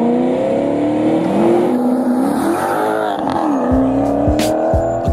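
Maserati MC Stradale with a 4.7-litre V8 revving loud and close, the engine note climbing and falling through several sweeps, then sharp blips and gear shifts as it accelerates.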